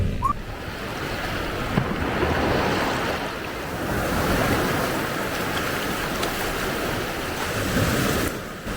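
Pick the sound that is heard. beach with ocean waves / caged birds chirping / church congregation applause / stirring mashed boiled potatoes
beach with ocean waves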